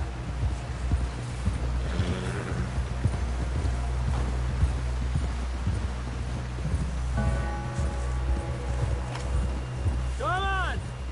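Horse hooves clip-clopping steadily at a walk in the Red Dead Redemption 2 game world, continuous soft rhythmic thuds under low rumbling ambience, with voices talking over them.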